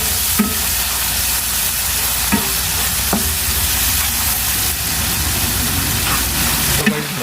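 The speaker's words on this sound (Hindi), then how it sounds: "तो भाई मसाला हमारा यहाँ पर भून चुका है।" Masala spices frying in a pan for aloo baingan sabzi, giving a steady, loud sizzle throughout with a few sharp clinks of a spoon stirring against the pan, and no voices.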